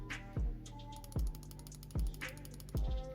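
A computer mouse clicks at a normal pace during Minecraft PvP, giving four evenly spaced, crisp clicks close up over faint background tones.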